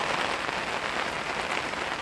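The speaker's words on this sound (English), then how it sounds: "there's the noise of the rain hitting the brolly" Steady rain drums on a fishing umbrella at a cage feeder fishing spot, a dense, even patter that fills the whole stretch close by with no talk.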